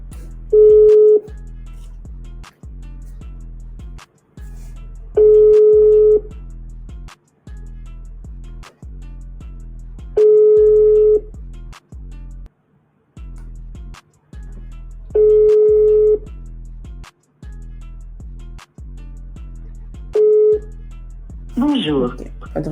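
An outgoing sales cold call on a phone: repeated ringback tones pulse at regular intervals over a steady line hum for about twenty seconds, followed by a short burst of voice at the end.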